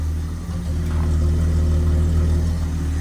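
An XE Ford Falcon that sat unused for 13 years idles steadily after being started. It gives a close, loud, even engine drone with a low hum and no talking.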